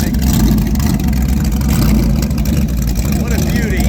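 A classic race car engine rumbles steadily at close range in a racetrack paddock at Road Atlanta, with a deep, throaty idle, and a voice talks faintly underneath.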